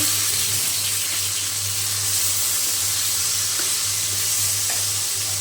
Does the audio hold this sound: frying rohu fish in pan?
yes